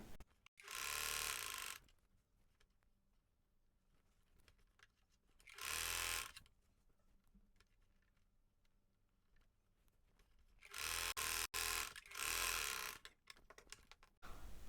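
Sewing machine stitching a collar on a co-ord set top, heard in three or four loud running bursts of steady mechanical whirring, each a second or two long, separated by quiet pauses.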